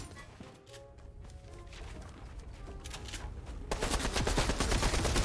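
Rapid gunfire in a Fortnite-style battle royale match, with a steady crackle of shots that grows louder and denser toward the end.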